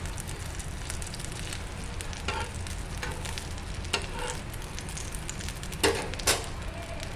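A buttered bread sandwich toasts in a pan with a steady, close frying sizzle throughout, broken by a few brief scrapes and clinks.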